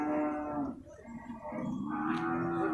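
Water buffalo bulls at an animal market in Purwakarta, one giving a long, loud, harmonic moo that breaks briefly and then resumes, close by, with faint market noise behind.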